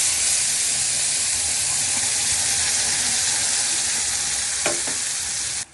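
Spice paste and nigella seeds fry in hot oil for a Bengali hilsa bhapa, giving a loud, steady, close sizzle that runs unbroken, with a couple of faint clinks near the end before it cuts off.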